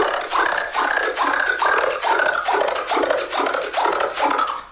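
A dubstep bass pulses in a rapid, rhythmic series of gritty, growling hits, each note pitching down slightly with frequency shifter automation, loud and alone with no voice.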